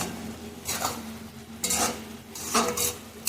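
A utensil stirs red amaranth greens frying in a pan, with three distinct scraping strokes over a soft, continuous sizzle, close and clear, with no voices.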